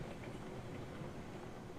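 Train running in the Railroads Online video game, a steady faint low rumble of rolling stock on track without talk.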